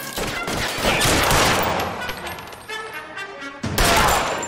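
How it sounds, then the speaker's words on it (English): Gunfire in the video game LA Noire during a police shootout, dense volleys of shots crashing close and loud, easing briefly before another heavy burst. "Lay down some fire."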